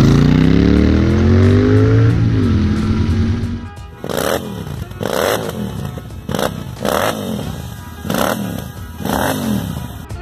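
A Royal Enfield Interceptor 650 motorcycle with a 270-degree twin engine first revs and accelerates with a rising whine, then gives a series of loud, rhythmic engine bursts close by, with no talking.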